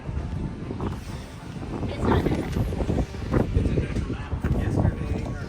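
Wind gusts buffet the microphone outdoors, coming as loud rumbling bursts that rise and fall across the whole stretch, with people talking faintly underneath.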